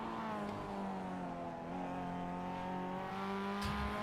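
Race car in the Spec-5 World Tour braking hard into the Phillip Island hairpin, its engine note a steady droning whine that dips and shifts pitch as it slows, loud and continuous with no talk.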